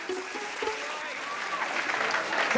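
Audience at a comedy show applauds steadily and loudly, a dense wash of clapping from a crowd that carries on throughout without a break.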